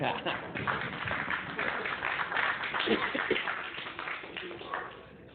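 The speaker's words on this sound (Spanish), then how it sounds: "Den un aplauso al rey." A church congregation applauds with sustained, dense clapping that swells and slowly tapers off, sounding muffled and somewhat distant.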